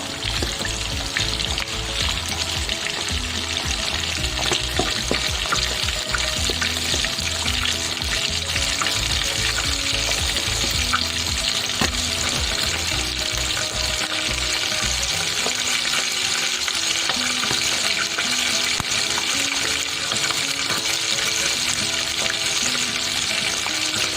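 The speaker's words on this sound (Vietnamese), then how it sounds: "Các bạn chiên cho nó vàng vàng cái lớp bên ngoài á" Fish roe frying in oil until golden outside, a steady, dense crackle and sizzle that runs continuously and loudly throughout, close up with no talking.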